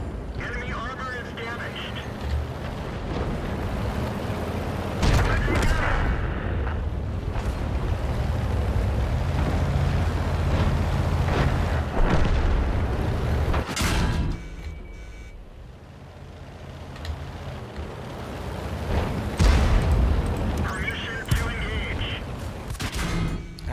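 Bursts of gunfire and explosions from a war video game run steadily throughout, loud and dense, with a person talking over the battle.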